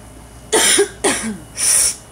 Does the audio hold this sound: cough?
yes